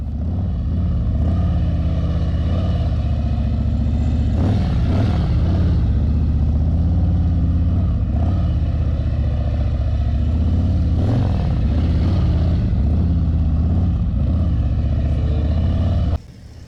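A motorcycle engine idles steadily, then revs up twice as the rider pulls away, loud and close, cutting off abruptly at the end.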